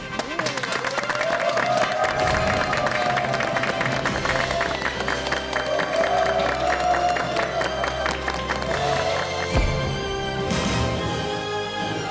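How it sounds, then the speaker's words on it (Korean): A sustained round of studio audience applause and clapping welcomes a guest on a Korean TV talk show, steady and full, with some cheering and music-like tones mixed in. "여러분 박수로 환영해 주십시오."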